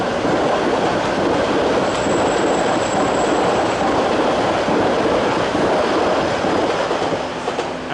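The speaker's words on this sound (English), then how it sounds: "At last, a Metropolitan Line train that isn't blocked." A Metropolitan Line train to Chesham runs steadily and loudly past at West Hampstead, a continuous rumble of wheels and rail noise with faint squeal, close by and filling the whole stretch with no voices.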